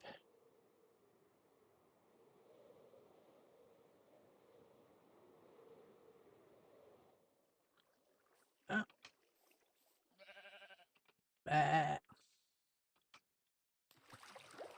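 Minecraft sheep give a few short, close bleats in separate bursts after a stretch of faint background sound.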